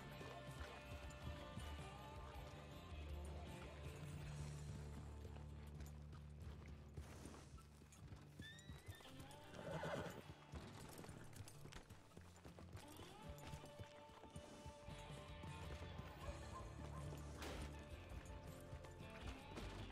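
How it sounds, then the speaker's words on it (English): Horse hooves clip-clopping with an occasional neigh in the RedM roleplay game, a steady close rhythm of hoofbeats over a dense bed of game ambience and music. "Oh, there is a horse."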